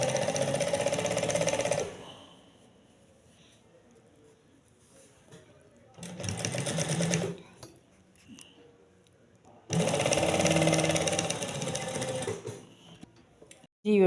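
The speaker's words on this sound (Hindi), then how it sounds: "इस तरह से आप इसको फोल्ड करते हुए इसके बिल्कुल किनारे किनारे पर सिलाई लगा दें।" A sewing machine runs in three loud whirring bursts while stitching along the folded edge of fabric piping, separated by quiet pauses, close up, with no talk.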